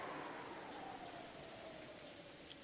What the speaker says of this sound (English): Through the window, the darkness of the rainy night could be seen, along with the occasional thunderbolt.